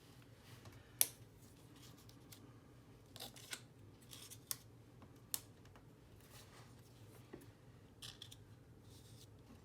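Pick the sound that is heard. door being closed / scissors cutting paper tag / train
scissors cutting paper tag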